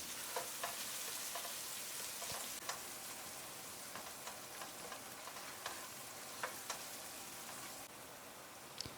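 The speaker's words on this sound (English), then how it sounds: "Stir the onions and fry them for at least 3 to 4 minutes." Diced red onions fry in a pot with a continuous soft sizzle, while a spoon stirs them, giving scattered scraping taps throughout; the cooking is fairly quiet and no voice is heard.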